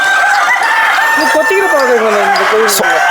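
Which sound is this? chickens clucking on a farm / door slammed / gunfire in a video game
chickens clucking on a farm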